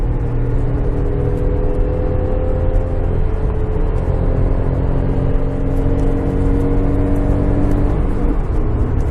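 A car engine heard from inside hums and revs as the driver downshifts with heel-toe throttle blips on a curvy road. The mid-pitched drone runs close and steady for about nine seconds with gentle rises in pitch, and nobody speaks.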